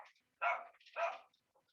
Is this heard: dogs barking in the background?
yes